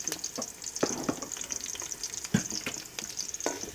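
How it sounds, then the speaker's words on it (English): Pork sizzles and crackles steadily in a hot pan with soy, pepper and salt, with scattered pops and occasional clinks of a utensil stirring. "my pork is on with soya pepper and little salt"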